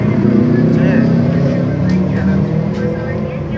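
A motorcycle fitted with a PWK 28 mm carburetor revs steadily nearby, a loud continuous engine drone under people talking.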